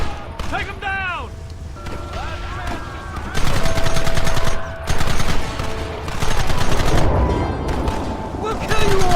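Gunfire crackles in a Red Dead Redemption shootout, with bursts of rapid shots over a steady battle din and shouting voices between volleys.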